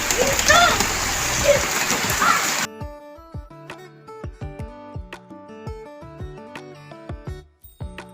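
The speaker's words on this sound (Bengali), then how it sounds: "আর এখানে পুরো বৃষ্টি শুরু হয়ে গেছে সাংঘাতিক" Heavy cyclone rain in Kolkata hisses loudly for the first few seconds, then cuts abruptly to plucked musical notes.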